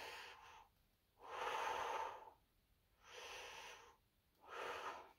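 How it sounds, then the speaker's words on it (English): Slow deep belly breathing, three long airy inhales and exhales in steady alternation, close and fairly soft with quiet pauses between breaths. "So you breathe in and your stomach goes out."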